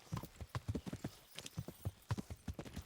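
A horse's hooves clip-clop in the medieval video game Kingdom Come Deliverance, a busy, uneven run of sharp hoofbeats at moderate volume with no talk over them.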